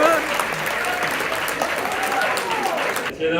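Dense audience applause for the champion at the Bushiroad Vanguard Worlds 2022 card game tournament, with scattered voices, sustained loudly before cutting off abruptly at the end.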